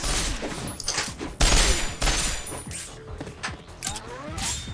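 Bandits trade gunfire from behind cover in the Resonance of Fate video game, a dense run of close, loud shots and bursts with clattering mechanical noise between them and no talk.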